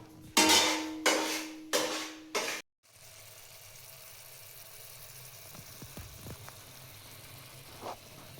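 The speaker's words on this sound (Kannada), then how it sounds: "ನೋಡಿ ಇದು ನೀಟಾಗಿ ಫ್ರೈ ಆಗಬೇಕು ನಿಧಾನಕ್ಕೆ ಲೋ ಫ್ಲೇಮಲ್ಲೇ." Butter garlic chicken fries slowly in a pan on low flame: a few loud stirring strokes open, then a soft, steady sizzle runs on with occasional faint clinks.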